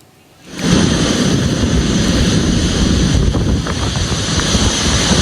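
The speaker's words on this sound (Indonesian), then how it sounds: "pesawat Kepresidenan Indonesia 1 yang membawa Presiden Prabowo beserta rombongan tiba" Indonesian presidential aircraft arriving at Haneda Airport, Tokyo, in the evening: a steady, loud broadband roar of jet engines and rushing air that swells in after half a second and holds evenly throughout.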